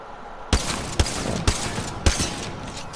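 Four sharp, loud shotgun blasts at an even, steady pace, each with a short decaying tail: a Mozambique shotgun firing hammerpoint rounds in the Apex Legends video game.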